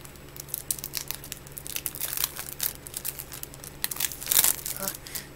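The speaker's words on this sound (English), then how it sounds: "It's so satisfying to like open these plastic pouches." Plastic pouches from a mystery bag torn open and crinkled, a close, busy run of sharp crackles and rustles that grows louder toward the end, with a voice talking over it.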